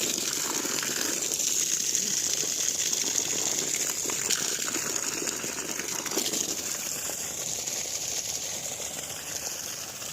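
Water gushes steadily from a 1.5-inch delivery pipe of a 950 W solar BLDC borewell pump drawing from 275 feet, a loud, continuous rushing outdoors close by.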